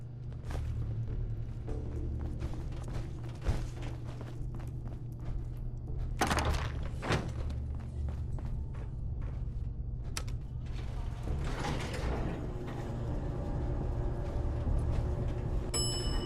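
Elevator in the game Fallout 4, with mechanical thunks, clanks and a rumbling mechanism over a steady low hum, plus a few sharper impacts partway through and a voice speaking briefly.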